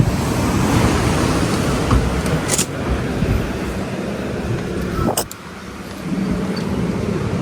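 Loud, continuous rush of surf on a beach at Jose Abad Santos, Davao Occidental, waves washing in steadily with a broad roar and a brief lull near the end.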